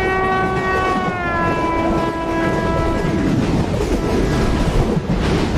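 Indian express trains race on parallel tracks in the MSTS train simulator, a long sustained horn blaring loud over a constant rumble of wheels and rail noise, with no talk.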